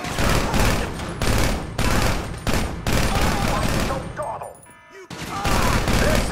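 Gunfire in the video game GTA V: dense bursts of automatic shots and fusillades, loud and near, repeating in waves with a brief lull, while voices speak in the game.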